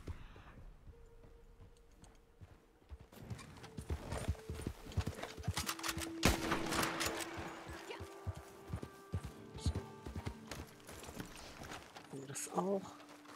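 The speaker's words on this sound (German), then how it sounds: "Galopp durch den Wald." A horse gallops through a forest in the Western video game Red Dead Online, with steady, rhythmic hoofbeats running for most of the stretch and someone talking over them.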